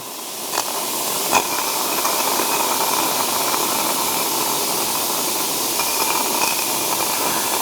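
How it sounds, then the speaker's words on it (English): A suction pump draws old brake fluid out of the master cylinder of a C3 Corvette, a steady close hiss with a faint engine-like hum running unbroken throughout, marked by a couple of brief clicks near the start. "we're going to suck all the fluid that we can get out of this master cylinder"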